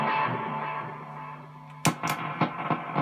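Distorted electric guitar played through a Blackstar HT Studio 20 amp's own distortion with a Strymon effects pedal, a sustained chord ringing and fading, followed by several sharp picked attacks at close range.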